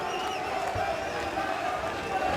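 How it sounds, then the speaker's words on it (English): Kickboxing crowd at a Glory heavyweight fight cheering and roaring in a broad, continuous wash of arena noise, with a commentator talking over it. "This crowd trying to spur Adekbui on"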